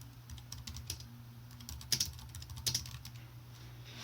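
Light keystrokes tap out on a computer keyboard in a quiet room, an uneven run of soft clicks with a couple of sharper presses, steady and close with no talk.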